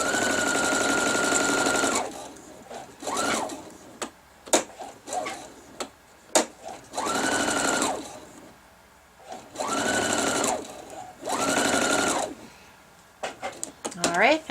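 A sewing machine stitches a quilt seam in several bursts of a few seconds each, close and steady, broken by quiet pauses filled with small clicks and taps of handling fabric and pins.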